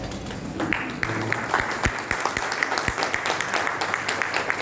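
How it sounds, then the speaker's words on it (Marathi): An audience at a gathering rises to its feet and applauds, a dense steady wash of many hands clapping for nearly five seconds with sharper individual claps poking through. "आपण उभं राहून या सगळ्यांसाठी टाळ्या वाजवूया"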